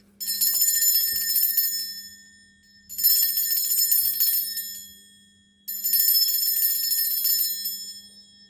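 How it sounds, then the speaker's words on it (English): Tibetan bell struck three times, each ring a bright shimmering metallic tone that hangs for about two seconds and fades before the next strike, heard alone over a faint low hum. "It's a lovely Tibetan bell that my other half got for me."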